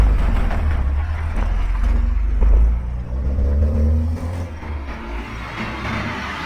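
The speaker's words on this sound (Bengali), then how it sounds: "কিছুক্ষণের মধ্যে পুলিশের গাড়িটা জঙ্গলের সামনে এসে দাঁড়ালো।" A police car drives toward a jungle, its engine giving a steady, close low rumble that swells slightly midway and then eases off toward the end, with no voices.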